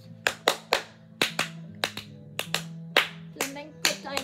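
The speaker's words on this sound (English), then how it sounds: "clap your hands" Sharp hand claps in an irregular rhythm over a steady low musical drone, about a dozen crisp claps spaced unevenly, close and fairly loud.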